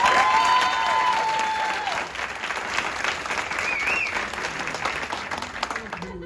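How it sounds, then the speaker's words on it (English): Audience applause at a school district volunteer night, sustained loud clapping from a crowd in a hall that eases slightly but continues throughout. "one more round of applause, everyone."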